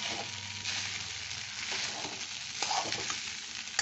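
Cashews fry with flattened rice pulao (chire polau) in a pan, giving a continuous close crackling sizzle with soft stirring scrapes, steady and without speech.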